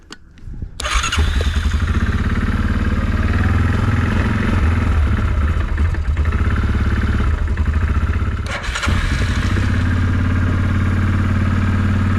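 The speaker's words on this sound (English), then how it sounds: "we can get it to actually take some throttle input without dying immediately" A Kodiak engine catches after a brief start and idles on choke, a loud, close, uneven sputtering run that dips once before settling.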